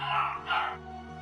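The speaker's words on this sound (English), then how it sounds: "Oh, dogs are barking." A dog barks twice in quick succession somewhere in a house, muffled and mid-distance, with a low steady hum running underneath.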